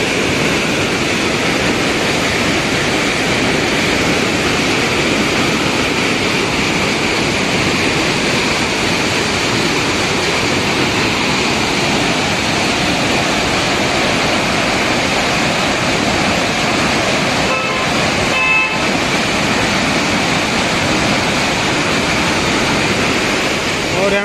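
Water rushes steadily and loudly at Ujani Dam in Solapur, a continuous broad roar like a waterfall or heavy spillway flow that fills the whole stretch, close and unbroken.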